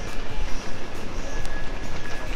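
A train rumbles past nearby with a steady, rough roar and faint rhythmic clatter, continuous and fairly loud throughout.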